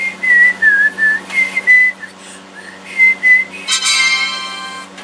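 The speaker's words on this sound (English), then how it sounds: "Whistle for 7 seconds." A person whistles a wavering tune in short, close bursts with brief pauses, ending on a longer, breathier note.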